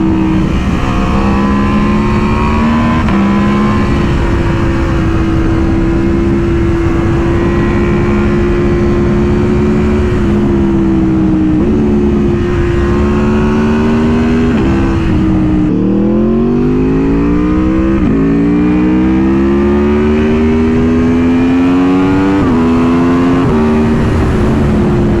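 An Aprilia Tuono V4R motorcycle engine revs hard through repeated climbing and falling pitch sweeps, loud and close for the whole stretch with no talk, on a lakeside ride.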